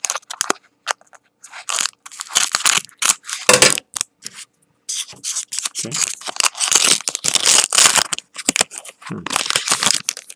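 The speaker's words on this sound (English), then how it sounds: "Let me open the packs first. And I do have my scissors." Gatecrash Magic: The Gathering booster packs being cut and torn open with scissors, with bursts of crinkly foil crunching and snipping in quick irregular runs and a brief spoken word.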